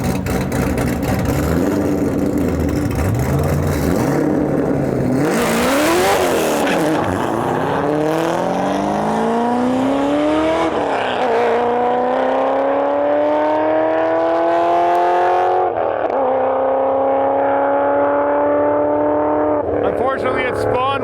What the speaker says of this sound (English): Listen to this thing chop. Man, do I love the sound of an LS Vet.